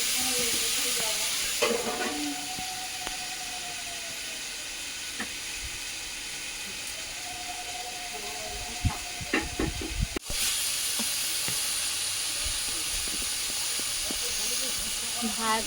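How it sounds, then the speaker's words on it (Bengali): Crab frying in a hot pan hisses and sizzles steadily as water is sprinkled in, with occasional stirring clatter and faint background sounds, close and continuous. "আর আমি একটু হালকা জলের ছিটে দিয়ে নেবো, কারণ কাঁকড়াটা সেদ্ধ হবে মতো।"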